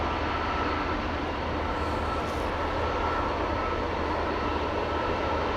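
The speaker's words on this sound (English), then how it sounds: "Singapore Airlines A350-900 going to Singapore, flight 323." A Singapore Airlines Airbus A350-900 departing Amsterdam Schiphol produces a constant, even engine roar, a dense wash of jet noise heard at a distance and unbroken throughout, with no voices.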